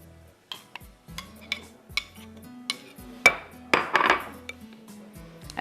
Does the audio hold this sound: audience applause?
no